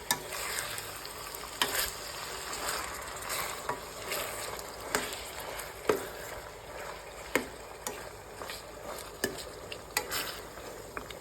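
A spoon stirs chicken curry with ginger paste and onions in a pan, giving a soft steady sizzle broken by repeated scraping knocks against the pan at an uneven, unhurried pace, close by and without talk.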